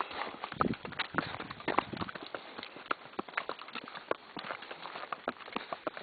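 Horse hooves clip-clop in a steady, uneven walking rhythm, a series of sharp close knocks on a hard surface, with faint background noise between the strikes.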